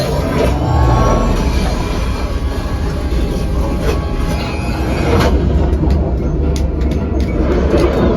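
Train rumble effect on the Disneyland Smugglers Run ride, a loud continuous mechanical roar and rattle that carries through the whole stretch with scattered clanks.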